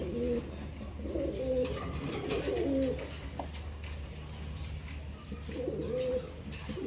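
A male and female pair of pigeons coo in soft, throaty bursts from close by, a few phrases early on and another near the end, over low steady background hum.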